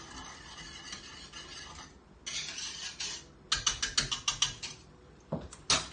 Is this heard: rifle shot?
no